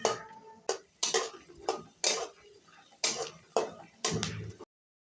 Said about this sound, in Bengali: বাদামগুলোকে এখন আমি নাড়াচাড়া করে লো ফ্লেমে 2 মিনিট মতো ভেজে